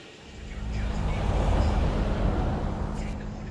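The Hoonigan Cossie's engine in a Forza racing game drones steadily, swelling slightly then holding a broad rumbling tone, with a voice speaking over it.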